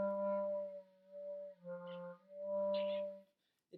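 Clarinet notes played with the tone holes not fully covered come out thin and unstable, breaking off between a few short, faint tones with airy squeaks.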